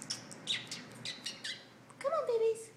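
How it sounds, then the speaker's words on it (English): A small bird chirping indoors inside a house, a few sharp tweets followed by a clearer warbling call near the end, fairly close, with a person speaking softly in between. "there's a bird in my house"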